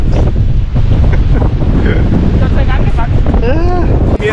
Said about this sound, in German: es könnte mal jemand den Wind abstellen